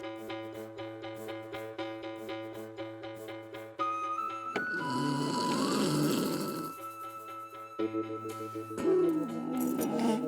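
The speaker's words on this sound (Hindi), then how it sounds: "खर्राटे शुरू, बुढ़ापा जोरों पे है।" A man snores loudly in a comic household scene from a Hindi TV sitcom, with rough, grunting breaths rising over steady background music.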